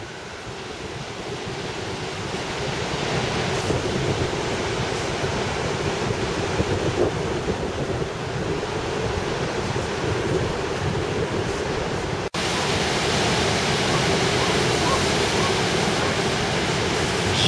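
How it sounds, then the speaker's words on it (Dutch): Heavy surf pounding the rugged north coast of Gran Canaria just west of Las Palmas, a loud continuous roar of breaking waves with wind buffeting the microphone throughout. "Zware branding."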